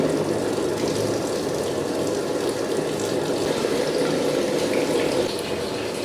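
A Samsung 9kg Eco Bubble washing machine draws in water for a second fill, a steady rushing flow holding at an even level throughout, close and alone with no talk.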